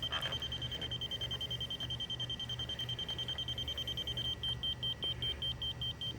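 A laser level's receiver beeps in a steady, quick electronic rhythm, faint and thin, with the pulses getting clearer and more separated toward the end over a low background hum.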